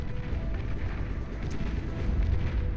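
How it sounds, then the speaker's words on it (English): In the Beyond All Reason real-time strategy game, a Paladin unit fires laser volleys and a triple-headed cannon, giving dense, rumbling booms and heavy low-end blasts that run continuously and loud. "Paladin going to be firing its laser volleys as well as its triple-headed cannon"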